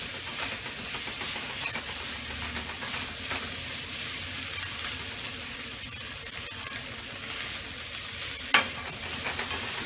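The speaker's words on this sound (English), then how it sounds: "See how the onions are cooking down in it? Getting nice and caramelized a little bit, translucent looking." Onions and sausage fry in a pan for homemade fried rice, making a loud, steady sizzle and hiss with stirring throughout and a single clink near the end.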